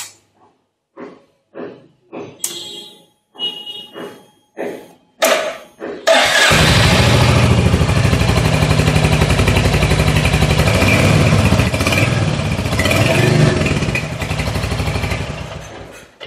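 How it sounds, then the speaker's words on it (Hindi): A Royal Enfield Hunter 350 motorcycle, a 2023 model, gives several clicks and brief cranking bursts before its engine starts, then a steady loud exhaust thrum that settles into a close idle. "और इसका चलिए एग्जॉस्ट नॉइज़ सुन लेते हैं कैसा मिलता है।"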